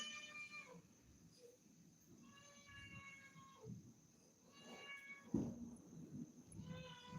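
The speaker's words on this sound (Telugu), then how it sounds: "పిల్లి అరుస్తుంది" A cat in a village meows several times, its drawn-out cries faint and somewhat distant over low background noise.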